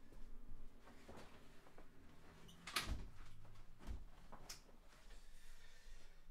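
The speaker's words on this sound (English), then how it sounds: "I've got to shut the door." A room door is shut indoors, a single solid thump partway through, with faint knocks and rustling and steady background noise from outside around it.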